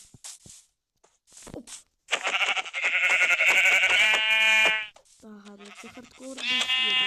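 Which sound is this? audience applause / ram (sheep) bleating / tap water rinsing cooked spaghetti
ram (sheep) bleating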